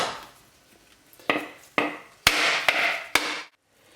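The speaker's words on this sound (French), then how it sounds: "On prend une noix de coco, alors l'opération c'est de la taper" A hammer strikes a coconut several times to crack it open for homemade coconut milk, giving sharp, hard knocks that come closer together and grow louder, with brief scraping between blows.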